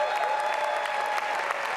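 Steady, dense applause from a crowd at the Reeperbahn Festival opening show, loud and sustained throughout with no voices standing out.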